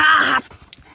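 An excited pet dog at home lets out one loud, strained bark or yelp that lasts under half a second. Quiet indoor noise follows.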